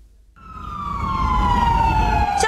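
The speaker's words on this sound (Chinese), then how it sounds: "消防车一辆接着一辆，警笛声响催得让人惊心。" A fire engine siren wails at a building fire, rising in loudly after a brief quiet and holding a strong, slowly falling tone over a steady traffic rumble.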